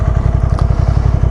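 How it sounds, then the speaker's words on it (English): A motorcycle fitted with a new exhaust idles close by, giving a loud, lumpy, rhythmic twin-like thump, pulses evenly spaced and steady throughout, no talk. "I think it sounds quite tasty. Sounds like a Ducati now."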